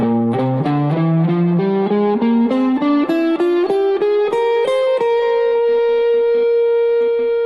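A distorted electric guitar plays an ascending Lydian Dominant scale one note at a time at a steady pace, ending on a sustained high note.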